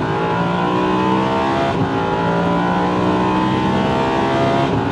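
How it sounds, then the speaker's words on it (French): A race car accelerating hard on a circuit, the engine note droning loud and steady with layered harmonic whine, heard from close up with no talk over it. "on va accélérer le plus tôt possible"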